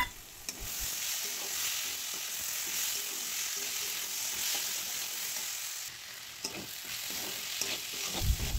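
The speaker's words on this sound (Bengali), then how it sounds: "ডালটাকে একটু নেড়ে চেড়ে ভালো করে ভেজে নিয়ে এবার দিয়ে দিলাম একটা কেটে রাখা টমেটো।" Moong dal and freshly added chopped tomato frying in a pan, a continuous close sizzle with a few sharper spoon scrapes and knocks, with no one talking.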